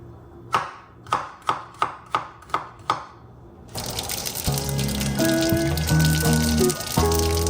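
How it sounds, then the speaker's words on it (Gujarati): Onion and garlic being chopped on a board: about eight sharp, evenly spaced knife strikes, then a continuous wash of sizzling or running-water noise with a faint melodic tone underneath. "ડુંગળી, લસણ કાપી નાખું"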